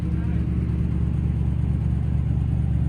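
Leyland Martian recovery truck engine idling at a raised throttle, a steady close diesel rumble that stays even throughout with no talk.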